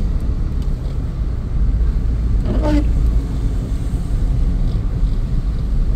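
A car cruises along Bermuda's tree-lined South Shore road near Southampton Parish, giving a steady, close road rumble with wind buffeting throughout and a brief faint whistle partway through.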